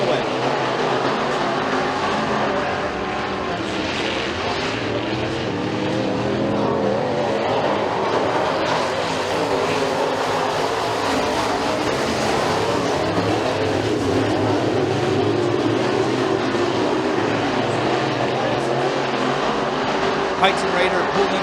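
Pro Mod race cars on the McKean County Raceway dirt track keep up a steady, loud engine roar for the whole stretch, with a commentator talking over it throughout.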